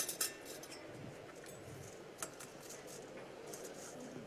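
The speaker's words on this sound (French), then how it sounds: "on va sélectionner nos petits morceaux. Je vais le faire avec une cuillère" A spoon clinks and scrapes faintly against a dish while picking through pieces of fried popcorn in a kitchen setting, a few light metallic taps over quiet background noise.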